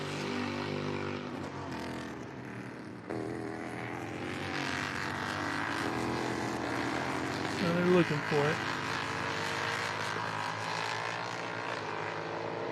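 F4 U.S. Championship race cars circle Canadian Tire Motorsport Park, a steady engine drone and roar running under continuous commentary throughout, with a brief louder pass near the end.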